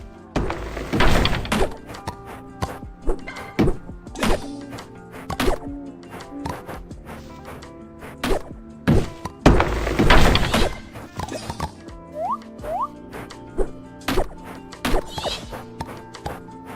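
Trees being chopped down in the farming game Fields of Mistria, a run of sharp wooden thunks and whacks at an irregular rhythm, some louder crashes among them, with game music faintly underneath.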